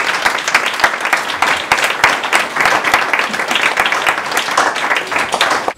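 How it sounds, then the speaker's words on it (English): An audience at a community final presentation applauds the participants, with dense, steady clapping from many hands that holds at an even, fairly loud level throughout. "I think we can applaud the participants before they start"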